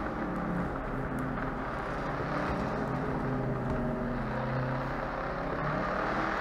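A Shelby Cobra 427 S/C V8 driven hard around the Nurburgring, its deep engine drone held loud and constant with shifting harmonics throughout, close and unbroken by any voices.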